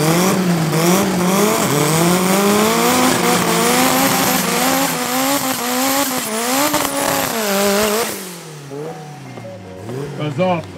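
Cars drag race at Midvaal Raceway, loud engines revving and climbing through the gears with tire squeal, then the roar drops away sharply and fades into quieter distant engine noise.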